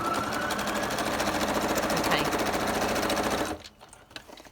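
A sewing machine runs continuously, stitching a burlap pocket in a steady fast rhythm, close and loud, then stops abruptly near the end; a brief spoken word comes after it stops.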